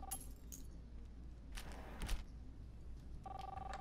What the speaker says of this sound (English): Got the keys again.